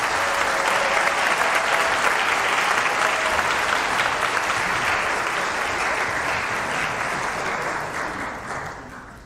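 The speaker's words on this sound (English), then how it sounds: "Can we have a big round of applause for Lisa" Audience applause at a high school instrumental music spring concert, a dense, steady roar of many hands clapping that holds for most of nine seconds before fading slightly at the end.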